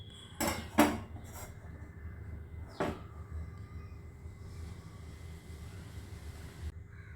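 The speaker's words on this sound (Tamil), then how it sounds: "இப்போ தண்ணி பாத்திரத்துக்கு தண்ணியை அடுப்பு மேலே வைங்க." A pot of water is set down on a kitchen stove while making a hibiscus drink, giving a few sharp metallic clanks and knocks close by, followed by a quieter single clunk and low background hum.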